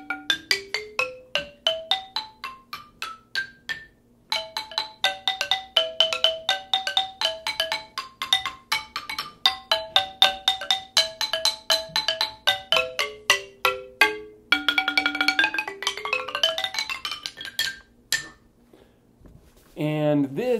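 An African marimba, an all-wood xylophone, is struck in quick runs of bright, ringing notes that climb and fall in rapid rhythmic patterns, with a brief pause near the end.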